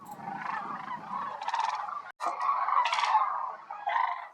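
Sandhill cranes overwintering at Whitewater Draw in Arizona, calling as they return to their flocking grounds: a dense chorus of rolling, bugling calls from many birds, overlapping continuously at moderate distance with louder bursts near the middle and end.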